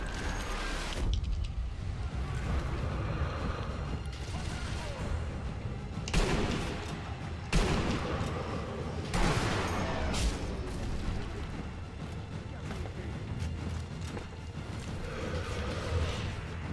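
Sniper Elite V2 game battle audio with a tank present: dense, continuous rumbling and booming gunfire and explosions throughout, with several heavy blasts standing out, loud and close.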